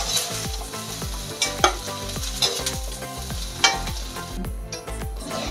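Taro leaf preparation frying in hot mustard oil in a pan, a loud, dense sizzle with rhythmic scraping stirs and occasional utensil knocks, heard up close with no voices.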